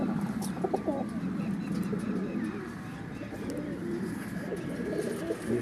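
Pigeons coo in low, soft, rounded calls on a rooftop loft among Pakistani high-flying racing pigeons, with a steady murmur of cooing and light rustling throughout and no clear voices.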